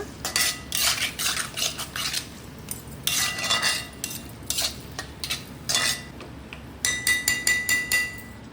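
Curry leaves being stir-fried in a pan for chicken sukka, with repeated metallic scraping and clinking of a spatula against the pan in bursts, close and fairly loud, with no talking.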